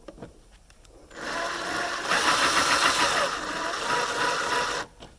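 A drill runs in reverse with a screw extractor bit seated in a stripped screw, whirring loudly and close for about four seconds, its pitch rising partway through, then cutting off.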